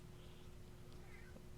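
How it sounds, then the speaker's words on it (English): House cat meowing, two soft drawn-out meows close by, faint against a steady background hum with no talking. "I start recording and you decide that you have to get up here and start meowing at me."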